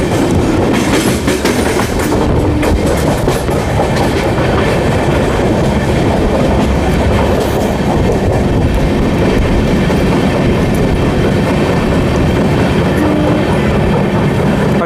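A train arrives at speed on the main line at Durg station, a loud, unbroken rumble with rhythmic wheel clatter across the rails that holds steady the whole time, with no voices.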